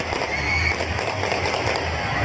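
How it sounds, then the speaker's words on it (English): Gunfire and detonations ring out on Avenida Sucre in Caracas amid unrest near a polling site, heard as a continuous, distant burst of rapid crackling pops over a steady outdoor wash, with no talking. "Escuchamos detonaciones en la avenida Sucre."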